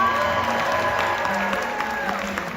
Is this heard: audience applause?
yes